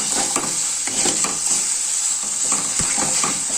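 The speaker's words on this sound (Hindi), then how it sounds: "शुगर को ऐड करने के बाद अच्छी तरह से इसको चलाओ, नहीं तो नीचे जल जाएगा।" Mango and litchi being stirred with sugar in a pan, a steady close scraping and stirring with a soft sizzle underneath, spoon strokes repeating throughout without any talk.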